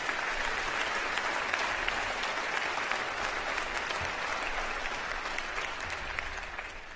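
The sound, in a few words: applause from the audience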